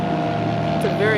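Motorboat engines drone steadily nearby at a beach under wind noise while someone speaks briefly.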